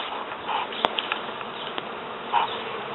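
Honey bees buzzing around a compost-bin (Dalek) hive, with scraps of comb left on the lid; a steady, dense drone close by, with a few brief individual bees passing nearer, and no talk.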